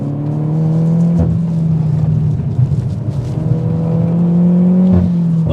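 A Peugeot 208 GTI on a track pulls hard with a steady, loud engine drone that climbs in pitch through the gears, with brief dips at the shifts, heard up close and without talk.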